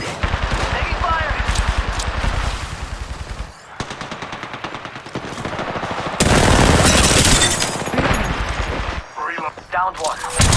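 Rapid automatic gunfire in the video game Apex Legends, played on an ASUS ROG Zephyrus M15 laptop. Loud, sustained bursts repeat with short breaks, and a voice speaks over the shooting.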